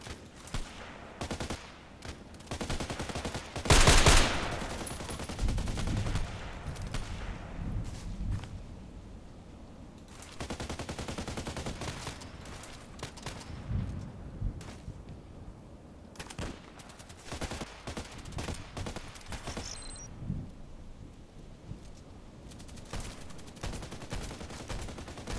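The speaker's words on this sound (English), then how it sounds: "Four more shots." Gunshots in a video game, with a loud close shot early and a dense wash of distant rifle fire and rumbling reports throughout, fairly faint overall.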